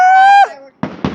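Home fireworks going off at a family house: two sharp, loud bursts close together near the end, following a bright whistling tone that bends downward as it fades.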